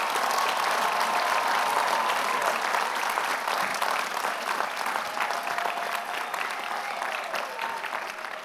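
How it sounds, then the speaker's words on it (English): Enthusiastic crowd applause at a college commencement ceremony for the class of 2018 student speaker, loud and sustained, then tapering gradually toward the end. "Please join me in an enthusiastic round of applause for the class of 2018's student speaker"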